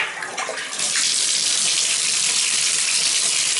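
Water gushing steadily from a tap into a repaired bathtub, a loud close broadband rush that swells in strength after the first second and then holds constant, with no voices.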